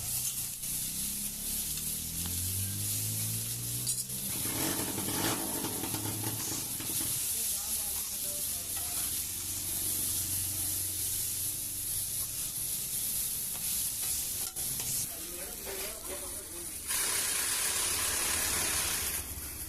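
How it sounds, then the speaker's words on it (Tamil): Raw mango pieces fry in oil with salt, giving a steady, close sizzling hiss throughout, with a voice briefly heard near the start. "லேசாக கொஞ்சோண்டு உப்பு போட்டு கொஞ்சம் ஆயில் ஊற்றி கொஞ்சம் லேசாக ஃப்ரை பண்ணிக்கலாம்"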